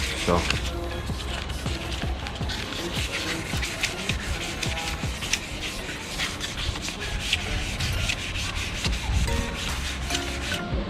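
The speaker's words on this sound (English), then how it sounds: "you're gonna want to keep the surface wet as you're sanding." Rapid back-and-forth rubbing of wet sandpaper on a car headlight lens, a steady scratchy rasp running continuously up close.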